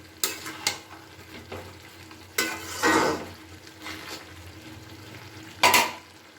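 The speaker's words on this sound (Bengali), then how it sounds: "এবার একটু নাড়াচাড়া করে নিচ্ছি আমি।" Cabbage cooking with fish head in a pan is stirred after the lid comes off, giving several scraping, rustling strokes over a low sizzle, with a louder clatter of the spatula near the end.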